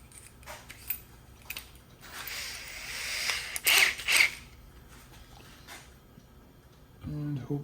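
A 3/16 inch drill bit being snugged into a drill chuck makes short ratcheting, grinding clicks, loudest in a burst in the middle, close by with quiet pauses between.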